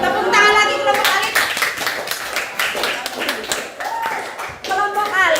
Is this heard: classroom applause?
yes